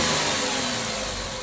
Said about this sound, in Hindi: अभी तो सर्विस बैटरी डाल के स्टार्ट की है गाड़ी।